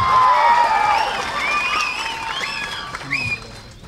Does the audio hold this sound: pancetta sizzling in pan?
no